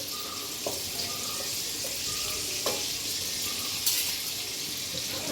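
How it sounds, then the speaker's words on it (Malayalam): Butter and sunflower oil sizzle steadily in a pan as rice fries, a constant soft hiss with a few faint clicks and taps of utensils, no voices over it. "ബട്ടർ ഇട്ട് കൊടുക്കാം. അതിനുശേഷം നമുക്ക് സൺഫ്ലവർ ഓയിൽ ഒഴിച്ച്"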